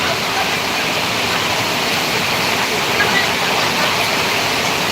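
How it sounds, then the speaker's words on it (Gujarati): Heavy rain pours steadily on a village yard where cows and buffaloes have climbed to higher ground, a dense, even wash of noise that stays loud and unbroken throughout. "કેટલો સખતનો વરસાદ પડી ગયો છે"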